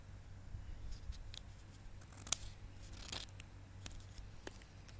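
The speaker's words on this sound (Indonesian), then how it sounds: "Kita kita gunting sampai benar-benar rata ya." Scissors snip through a handmade keychain craft piece while it is trimmed flat, with several faint, scattered cuts and one sharper snip standing out against a quiet room.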